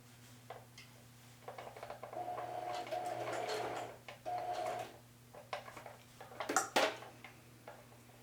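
A sewing machine runs in short bursts of stitching, each a few seconds long and separated by pauses. A low steady hum continues underneath, and clicks and clatter follow as the needle and presser foot are adjusted.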